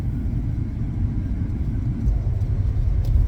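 A 2013 Mazda 3 is driving along, heard from inside the cabin as a steady low engine and road rumble that builds slightly toward the end, with no voices.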